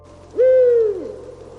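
A single deep, resonant eagle owl hoot, loud and close, swelling briefly then fading into near silence.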